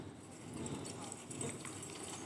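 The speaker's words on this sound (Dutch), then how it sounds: "Paard op 10 meter." Hooves of a nearby horse clip-clop on a hard surface, a few soft, steady beats partly under a voice and outdoor background noise.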